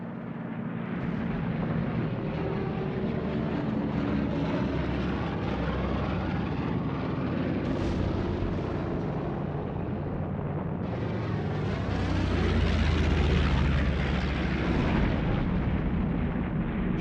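A Japanese film reconstruction of bombers and torpedo planes attacking the battleship Prince of Wales and the battlecruiser Repulse near Malaya: a loud, dense roar of aircraft engines and blasts, swelling near the end.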